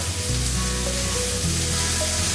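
Turkey breast fries in a hot pan with oil and butter, a steady, loud sizzle that runs unbroken throughout, with a low hum and faint tonal clinks mixed in.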